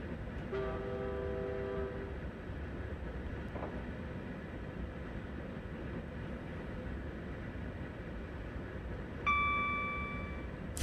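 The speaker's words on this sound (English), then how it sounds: "Sounds like an American whistle. Train horn thing." A Class 91 train horn in a train simulator game sounds in two blasts, a short one early and a brighter chord near the end, over a steady rumbling engine drone.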